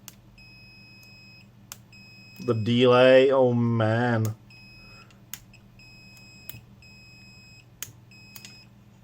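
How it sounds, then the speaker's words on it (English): A digital multimeter gives faint, thin continuity beeps when its probes are shorted, sounding in short intermittent bursts over a low hum, while someone speaks briefly in between. "Let's try if it actually beeps if I short it"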